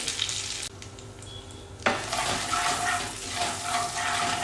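Green chilies and curry leaves hit hot oil in a pan with a sudden loud sizzle, then keep frying and crackling steadily while being stirred, close up, with no talk.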